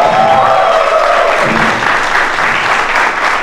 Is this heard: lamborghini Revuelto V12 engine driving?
no